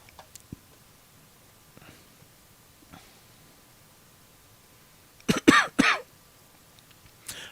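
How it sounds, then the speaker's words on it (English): A few faint isolated coughs early on, then a loud burst of harsh coughing near the end, in an otherwise quiet room. "I do have to cough back a little bit today"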